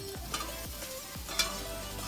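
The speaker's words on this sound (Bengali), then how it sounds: "আলুগুলো ভালো ভাজা হয়ে গেছে" Potatoes frying in a pan for a Bengali bitter gourd and potato curry, with a steady sizzle and a few scraping stirs across a short stretch.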